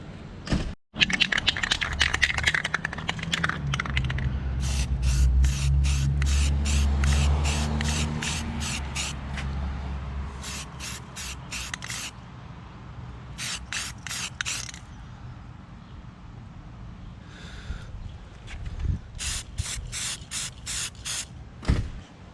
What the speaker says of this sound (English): maybe I'll do one more coat of the filler primer down there